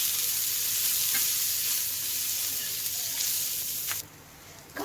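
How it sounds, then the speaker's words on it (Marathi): Onion fries in oil in a pan, a close, steady hiss of sizzling with a few light scrapes of stirring, and the sizzle drops away sharply near the end. "तेल टाकून मस्त आपल्याला कांदा भाजून घ्यायचा"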